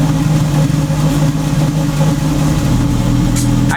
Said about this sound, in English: I'll give you a couple revs